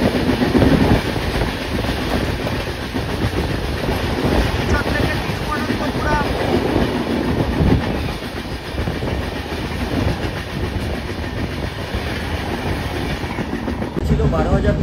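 The 12508 Aronayak Express, running about four hours late, passes close by with a loud, continuous rumble and wheel clatter over heavy wind buffeting.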